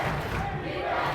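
A girls' varsity basketball crowd cheering defense, a loud sustained wall of massed voices and chanting that fills the whole moment.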